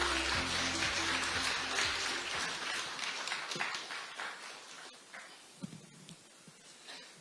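Crowd applause welcomes the next speaker at a Democratic Party central election committee dissolution ceremony: dense, steady clapping fills the room over low background music, then gradually thins and fades out.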